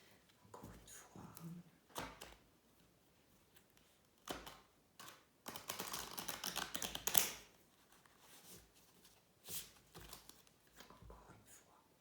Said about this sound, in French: on va déjà mélanger les cartes